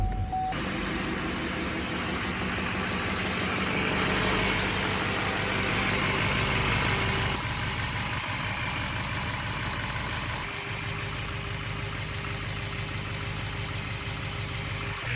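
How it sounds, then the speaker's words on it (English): A 2016 Chevrolet Duramax LML diesel engine cranks and starts, then settles into a loud, steady knocking idle with a constant low rumble that stays close and runs alone for about fifteen seconds. "Let's go start it up, see if we have any leaks."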